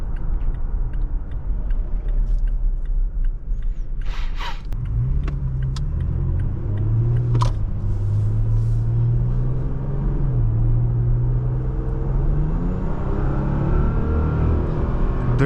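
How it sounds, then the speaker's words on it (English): A 2023 Toyota Tacoma TRD Off Road growls from the cabin while driving, a deep, steady engine drone over road rumble whose low pitch climbs and settles as the truck pulls, with a few light clicks and no talking. "The only thing you can hear is just the engine growling."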